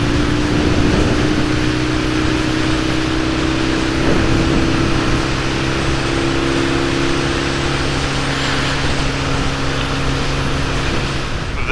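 A 1973 BMW R60/5 airhead motorcycle accelerating in fourth gear, its engine a steady, loud droning hum with clear tones that hold and shift slightly as speed builds, mixed with constant wind rush and no talk.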